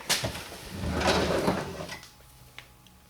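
A workbench drawer slides open with a scrape and rumble, close and fairly loud, followed by a short knock as it settles, with no talking.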